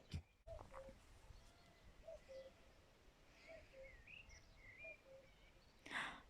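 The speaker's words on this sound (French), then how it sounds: "C'est un coucou." A faint, distant cuckoo repeats its soft two-note falling call about four times at an even pace, with quiet background birdsong, a knock at the start and a louder rustle at the end.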